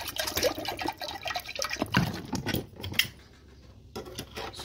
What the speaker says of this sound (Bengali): ফ্রিজে নিলাম ঠান্ডা জল, দিয়ে দিব হাঁড়িতে।